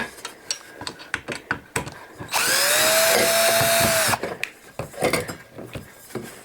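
A regular power drill fitted with a bit driver whirs in one sustained burst of about two seconds while driving screws during a ceiling light installation, framed by clattering handling noises before and after.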